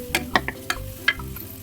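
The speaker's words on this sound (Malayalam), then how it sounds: "ഈ സവാളയും ഇഞ്ചിയും വെളുത്തുള്ളിയൊക്കെ ഒന്ന് നല്ലതായിട്ട് സോഫ്റ്റായി പച്ചമണമൊക്കെ മാറുന്ന വരെ നമ്മളൊന്ന് ഇളക്കി കൊടുക്കണേ" Onion, ginger, garlic and turmeric fry in a pan for a Kerala-style mutton roast, with a soft sizzle under a few sharp, irregular spoon knocks and scrapes in close succession.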